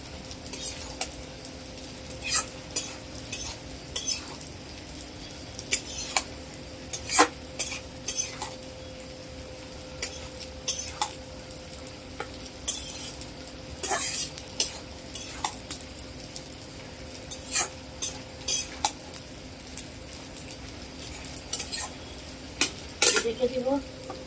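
Malabar spinach with shrimp is stirred in a pan, producing sharp, irregular spatula clacks and scrapes over a soft, continuous background hum, close and fairly loud, with no talking.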